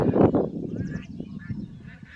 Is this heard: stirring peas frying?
no